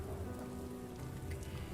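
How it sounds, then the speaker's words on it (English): Steady rain falling, a soft even patter with a faint low rumble beneath it and no talking. "Now it's raining on just us."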